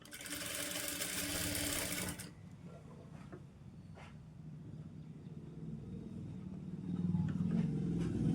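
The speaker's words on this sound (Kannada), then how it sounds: "ಇದನ್ನು ಈ ರೀತಿ ಸ್ಟಿಚ್ ಮಾಡಿದಂಥ ಬಟ್ಟೆ ಮೇಲೆ ಈ ರೀತಿ ಇಟ್ಕೊಂಡು ನಾವು ಈ ದಂಡಿಗಿನ ಸ್ಟಿಚ್ ಹಾಕೋಬೇಕು." Sewing machine stitching piping onto a blouse, a loud close whirring run for about two seconds, then quieter rumbling and a short restart near the end.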